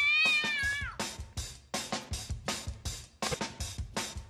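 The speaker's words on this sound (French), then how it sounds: "Un chat." A cat meows over and over: one long wavering yowl, then a fast run of short, loud, close meows with no talk.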